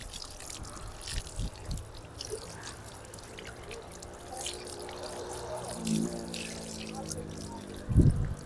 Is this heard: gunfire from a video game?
no